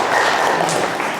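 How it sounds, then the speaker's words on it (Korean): Brief burst of audience applause at a poetry and humanities talk, many hands clapping close and loud in a dense, even wash. "다시 한번 박수 좀 부탁드리겠습니다"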